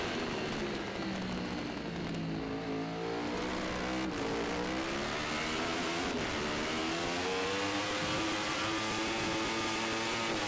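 Racing engines from a Formula Pacific motorcycle race at an AFM 2014 round, a continuous loud high-revving roar with gear changes and rising pitch sweeps as bikes pass close on the track.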